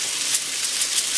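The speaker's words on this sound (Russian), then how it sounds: "Вот так, начинает закипать." A pot of water coming to a boil on a stove, giving off a steady, fairly loud hiss of steam and bubbling with no voices.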